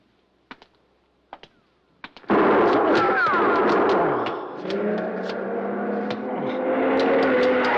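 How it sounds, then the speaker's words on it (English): Gunshots in an old-time radio detective drama, with three sharp, separate shots close by, then a sudden loud burst of car engine and screeching that carries on steadily to the end, with no talk. "Shooting."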